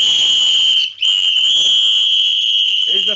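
A referee's whistle shrills in one long, loud, steady blast that cuts out briefly near the one-second mark and then resumes. A faint low voice sounds under the blast near the end.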